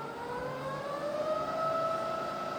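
A rebuilt Bridgeport milling machine head spins in high range, a quiet steady whine with rising tonal harmonics as the speed climbs, smooth and fairly faint.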